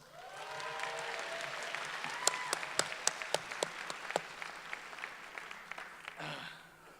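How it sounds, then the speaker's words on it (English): Graduates applauding themselves at a Berkeley City College graduation ceremony, steady crowd clapping at moderate distance with a few sharp nearby claps standing out, tapering near the end. "Give yourselves a big round of applause."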